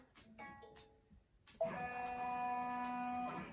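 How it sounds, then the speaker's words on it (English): An embroidery machine runs a tack-down stitch on towel material for an appliqué throw blank. A few short tonal beeps come first, then a steady whirring motor hum with sustained tones. "it's going to do a tack down stitch"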